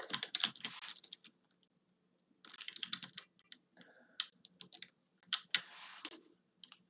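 Rapid clattering keystrokes on a computer keyboard during coding, in two bursts separated by a short pause, close and fairly quiet with no voices.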